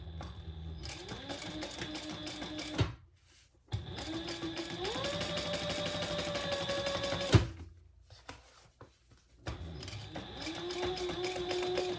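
Sewing machine top stitching a tote bag seam into the side panels, running in three bursts with a steady whirring motor that rises in pitch as it speeds up, separated by short pauses, close and clear.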